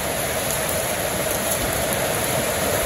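Steady rain falls over farm fields on a rainy day, a continuous dense hiss with no breaks, fairly loud and close, and no voices over it.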